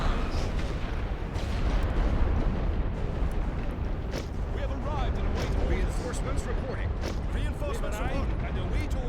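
Artillery fire in the WWI strategy game The Great War: Western Front, a dense continuous barrage of rumbling booms and blasts, loud and sustained throughout, with scattered sharper reports over the roar.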